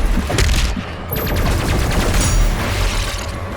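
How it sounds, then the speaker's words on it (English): A grenade goes off during fast combat in Doom Eternal on Nightmare difficulty, with loud explosive bursts and rapid gunfire packed close together and sharp weapon clatter running throughout. "let's actually fire a grenade here"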